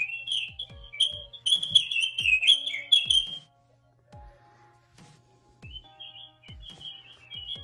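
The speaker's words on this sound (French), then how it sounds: "on entend même les oiseaux, c'est plutôt cool." Birds chirp and whistle outdoors, picked up by a Wi-Fi doorbell intercom camera, in quick bright bursts, a busy cluster early on, then a pause before more calls, over faint low thumps.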